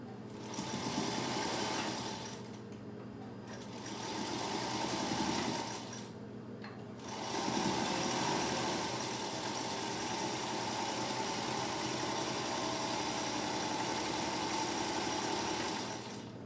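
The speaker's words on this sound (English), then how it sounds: "Again, I'm going to back stitch" A sewing machine runs close and steady while back stitching fabric for a face mask, with two short pauses early on before it hums continuously to the end.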